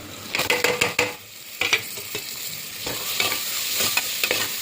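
Carrots and beans with green chillies sauté in a pan for soya chunk veg biryani, a soft sizzle broken by scraping stirs and clattering utensil strokes, close and moderately quiet.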